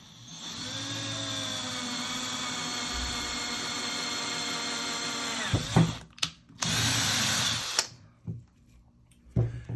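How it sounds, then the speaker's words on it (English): A power drill whines steadily for several seconds drilling into PVC, then stops, followed by a couple of short bursts and scraping contact sounds, close and loud. "So all I'm going to do is drill down into the center of this."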